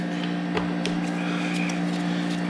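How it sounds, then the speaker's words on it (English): A refrigeration unit drones steadily in the background, a constant low hum with faint intermittent clicks and taps from nearby handling over it. "That noise you're hearing in the background is my refrigeration."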